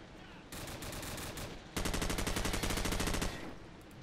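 Rapid automatic M4 rifle fire in the video game Call of Duty 4, two loud sustained bursts close up, the second denser and harsher, fading at the end with no talk.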